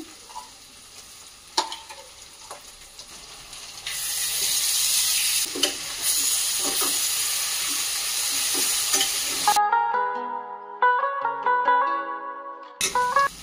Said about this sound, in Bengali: ভাজা হতে হতেই আমি এই মশলাটার মধ্যে দিয়ে দিলে একসাথে ফ্রাই হয়ে যাবে।